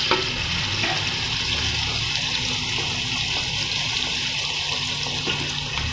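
Onions brown in ghee in a pan, a steady close sizzle and bubbling frying hiss with faint stirring, continuous and even, no voices.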